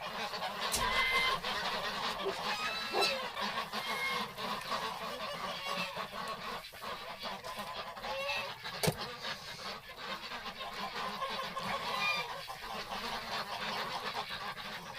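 Ducks and geese honk and call in a dense, continuous chorus on a winter morning outdoors, loud and overlapping throughout with a few sharper calls standing out.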